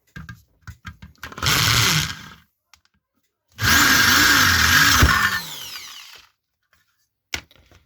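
A power drill widens a pilot hole to fit a pipe while building a smoke machine for finding vehicle vacuum leaks. Two loud, sustained drilling bursts, close by, separated by brief taps and a pause.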